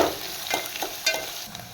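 Onion frying with tempering spices in hot oil, a soft steady sizzle with a few brief stirring scrapes, close by and alone without any talk.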